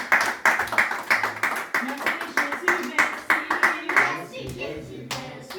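Congregation in a church service clapping steadily together, a sustained rhythmic round of many hands close by, with a brief quieter patch near the end.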